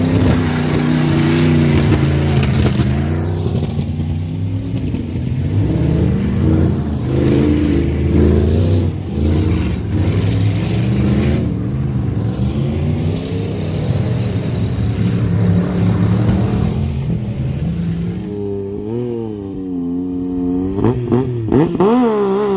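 Racing machines such as a Yamaha YXZ 1000R side-by-side and a Polaris RZR Turbo rev loudly and continuously nearby, engines rising and falling in pitch with a steady roar and a climbing whine toward the end.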